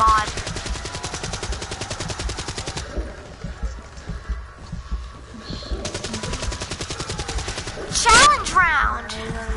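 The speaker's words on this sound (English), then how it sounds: "I love the shotguns, they're so fast, right?" Rapid shotgun fire from the video game Terraria crackles in fast dense bursts, stopping for a few seconds before starting again, loud and near.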